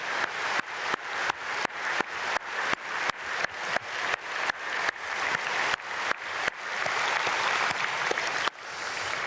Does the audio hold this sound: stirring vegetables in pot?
no